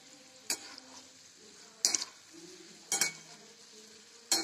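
Jaggery-filled modaks fry in oil in a pan with a low, soft sizzle, broken every second or so by sharp clinks and clatters of a utensil against the pan.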